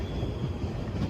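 Train running through Clapham Junction, a continuous low rumble of wheels on rails that holds steady and fairly close for a brief moment, with no speech over it.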